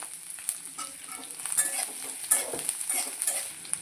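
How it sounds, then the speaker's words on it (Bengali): Onion and a few garlic cloves frying in a pan, a close, steady sizzle with light crackling and a few spatula stirring taps, continuous through the short stretch without any talking. "এবার আমি পেঁয়াজ আর কয়েকটা রসুন এই দেখুন এটা ভেজে নেব"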